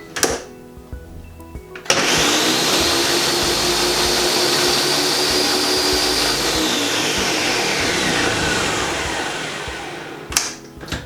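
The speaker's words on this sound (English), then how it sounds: "So we just blend that for a minute or so, just to combine it all together." A blender whirs hard for about nine seconds while it mixes a smooth vegan satay sauce. The motor is loud and close and eases slightly toward the end, with a few soft clicks before and after.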